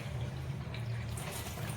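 Ada rice flakes rinsed in water by hand, with close, continuous sloshing and swirling of water in a vessel, fairly quiet.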